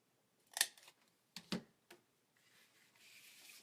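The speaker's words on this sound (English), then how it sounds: "My ancient corner rounder, isn't that nice?" An old corner rounder punches paper corners in a quiet craft room: two sharp crisp clacks with a few softer rustles and handling sounds between them, close and alone.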